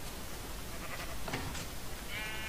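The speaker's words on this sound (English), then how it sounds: "got some sheep in a pen" Faint Minecraft sheep bleats from a pen over a constant noisy background, a couple of short calls in the middle and one near the end.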